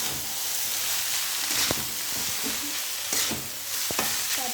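Chow mein frying in a pan and being stirred, a steady close sizzle with scraping stir strokes and occasional knocks of the utensil against the pan, no talking.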